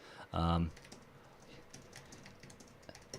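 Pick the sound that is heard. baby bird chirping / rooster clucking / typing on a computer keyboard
typing on a computer keyboard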